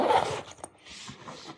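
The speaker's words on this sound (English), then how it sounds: "Let's open this backpack and I will show you what is inside." A backpack zipper is pulled open up close in a quick rasping burst, followed by fainter rustling and handling of the bag.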